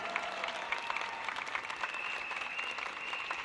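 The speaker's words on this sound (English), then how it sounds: "Give them another big round of applause" Steady applause from a large crowd at an outdoor political rally for a party's new candidates in a city promenade area, dense continuous clapping throughout with no talk over it.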